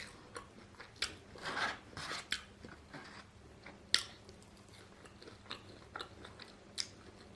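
Crunchy onion rings chewed close to the mic during a South African mukbang, quiet irregular bites and crunches with soft mouth sounds and no talking.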